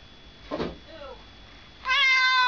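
A cat meow played from an iPhone app, with a faint murmur before it and then a clear, tonal, sustained meow near the end, close and fairly loud.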